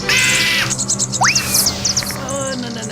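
Sharp, shrill bird calls of a sparrow screeching outdoors, a quick series of high chirps and a rising squeal over a steady background hum, fairly close.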